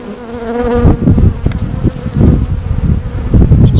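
Honeybees buzzing in an open backyard hive during an inspection, a humming drone heard close up at first, then mixed with frame handling, rustling and knocks.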